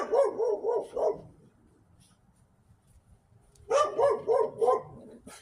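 A rambunctious little dog named Millie barks in two quick bursts of several sharp, close yaps, with a quiet pause in between.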